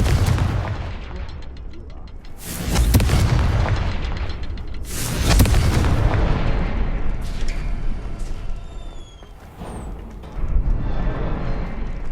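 Confringo fire spell blasts in Hogwarts Legacy: a series of loud, deep booms in close succession, each ending in a rumbling tail, with no talk between them.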